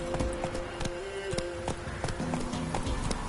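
Roach, Geralt's horse in The Witcher 3, gallops with a quick, steady run of clip-clopping hooves, close and loud throughout, over a low ambient game background.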